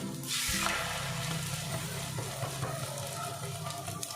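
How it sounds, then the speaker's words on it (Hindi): An egg drops into hot oil spread around a pan over a low gas flame, giving a bright sizzling burst that settles into a steady, close frying hiss over a low hum. "तो तेल को चारों तरफ फैलाते हुए ये अंडा हम इसमें डाल लेंगे।"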